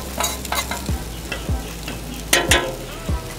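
Hash browns sizzle in a skillet on a Blackstone griddle with a steady hiss, broken by repeated sharp scraping taps of a spatula at an uneven rhythm, close and fairly loud, with no voices.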